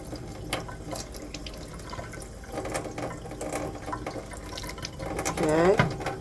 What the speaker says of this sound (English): so we give her a good bit of water